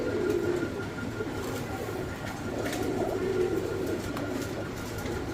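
Fancy pigeons, including a ringed male and a cream-barred bird, coo in low, steady murmurs under a continuous background hum, with no voices.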